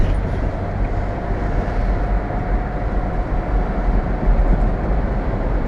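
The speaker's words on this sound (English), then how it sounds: "we're going to be stopping for a train" A Max light rail train passes at a road crossing at night, a steady loud rumble and rolling rail noise that holds evenly throughout, with no talking.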